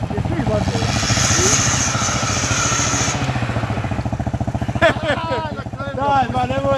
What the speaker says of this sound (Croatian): Ljut ovaj motor u njega bolan.